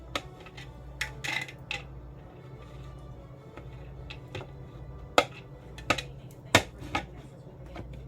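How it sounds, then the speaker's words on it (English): A knife chops green peppers on a cutting board in scattered, sharp taps of uneven rhythm, a few of them louder clacks, over a quiet kitchen background. "chopping these up real good."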